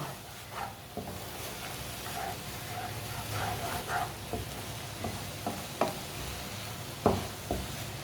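Eggs and tomatoes sizzle softly in a pan while a spatula stirs them, with a low steady fry broken by occasional scraping taps against the pan, fairly quiet and without speech.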